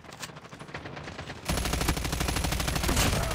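Rapid automatic gunfire in the video game Call of Duty, a dense rattling burst that gets louder and heavier halfway through and continues steadily to the end.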